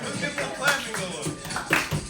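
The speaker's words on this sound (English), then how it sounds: "Let's get a little clapping going." Scattered clapping from a crowd at a real estate company gathering, a few uneven claps mixed with cheering and talk, moderately close.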